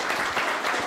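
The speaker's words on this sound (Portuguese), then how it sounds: "você merece o aplauso de todos nós" Sustained applause from a crowd, dense and steady clapping throughout with no pause, loud and close.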